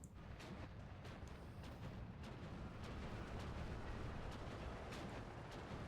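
Distant artillery fire from the Steel Division II war game, aimed at a Pak 40 anti-tank gun, comes as a faint steady stream of booms and rumbling over a continuous low battle roar.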